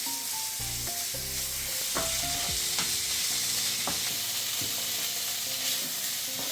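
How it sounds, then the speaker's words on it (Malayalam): Chicken curry masala fries in a pan, and a spoon stirs it with repeated scraping strokes over a constant sizzle. No voices are heard. "കരിയാതെ നോക്കണം നല്ലോണം ഇളക്കണം"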